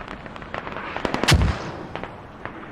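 Mortar fire in a competitive video game match, with sparse sharp cracks and thumps scattered across the stretch and one heavier booming impact near the middle standing out above faint background noise.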